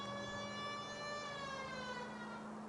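A 1940s-era police car siren in the video game LA Noire wails in a steady sustained tone, faint and distant-sounding, with no talk over it.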